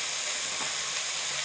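Chorizo and green pepper fry in a pan with a loud, close, continuous hissing sizzle that holds steady throughout.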